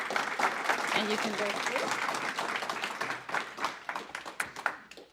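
Audience applauding a data engineering student team after their final project presentation, a brisk burst of clapping that thins into scattered individual claps, with a brief spoken remark over it.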